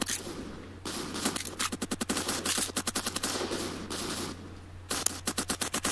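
Rapid bursts of video game gunfire from a recoiling automatic gun, loud and close, firing in repeated rattling volleys separated by short pauses over a steady background hum.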